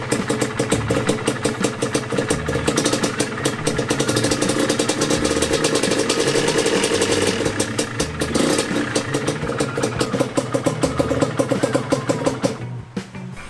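Close up, a rebuilt Yamaha DT125 two-stroke engine idles with a fast steady pop and a slight rattle, rising briefly before cutting out near the end.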